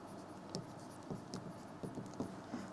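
A pen scratches out an accounting journal entry on paper, with soft, rhythmic strokes and small taps, quiet and close with no talking.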